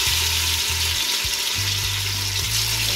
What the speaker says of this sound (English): we're just going to let it fry up